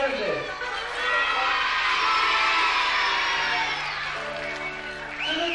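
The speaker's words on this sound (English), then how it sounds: "let's give a big special round of applause to Mary and Josie" A crowd at a London Zoo event in 1991 claps and cheers continuously at close range, with a broad wash of applause and scattered whoops that swells slightly before easing off.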